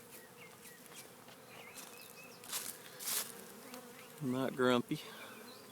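A gentle swarm of honey bees hums with a dense, steady buzz, individual bees droning close by as someone speaks briefly over them near the end.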